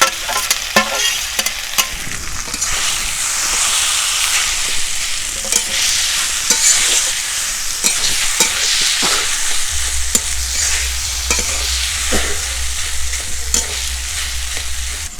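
Grated potato is stirred and fried into melted tomato for a vegetarian omelette curry, a continuous close sizzle with frequent spatula scrapes and clicks against the pan, no one talking.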